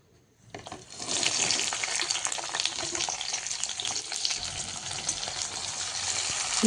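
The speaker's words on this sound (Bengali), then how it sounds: "কড়াইও গরম তো তেলও গরম হয়ে গিয়েছে এখন দিয়ে দিব আমি জিরা গোটা জিরা" Whole cumin seeds hit hot oil in a heated kadai and burst into a loud, dense, steady sizzle after a brief quiet start, close up and continuous with no talking.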